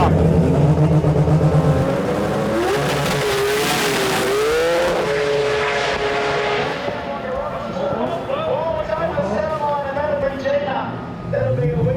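A drag race car with wheelie bars accelerating at the Sydney Jamboree, its engine note climbing loudly and then holding high as it fades, with people talking over it.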